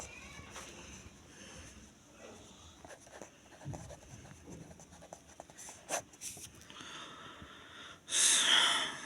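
A pen scratching across paper while a chemistry equilibrium problem on Kp and Kc is worked out by hand: soft, uneven strokes, faint against a hissy background, with a louder scrape near the end.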